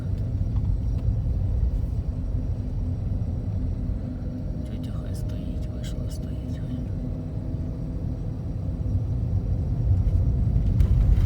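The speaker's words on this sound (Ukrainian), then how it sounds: "На третій передачі можна їхати." A car with a manual gearbox cruising in third gear on a main road around Brovary, with a steady low engine and road rumble and faint cabin noises throughout.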